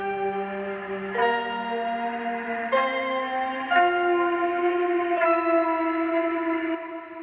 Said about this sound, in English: This melody is also doubled by this guitar-like instrument we just heard from Eat FM, and another instance of Hypha with the patch Rainforest.